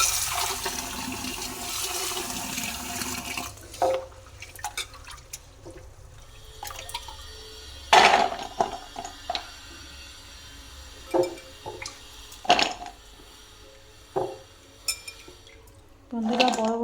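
Soaked rajma kidney beans are rinsed in water by hand, with a steady rush of running water at first, then scattered splashes, sloshes and clinks in short separate bursts.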